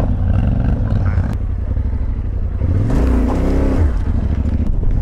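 Motorcycle ridden across the sandy Mini Gobi desert in Mongolia, its engine droning loudly and steadily up close, with a throttle swell and rising pitch midway through, then holding a strong roar to the end.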